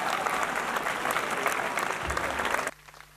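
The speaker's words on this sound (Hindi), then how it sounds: "उनकी भरपूर तालियां बजा दीजिए जी" Dense, loud applause from a crowd at a turban-tying ceremony honouring a young hafiz at a college, sustained for nearly three seconds and then cutting off abruptly to near silence.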